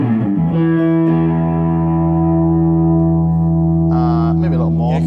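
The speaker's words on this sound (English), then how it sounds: "And if we stick a bit of drive on." A sustained electric guitar chord through a Seymour Duncan Silver Lake reverb pedal rings out with gritty overdrive and a wash of reverb, loud and steady, with a few higher notes added near the end.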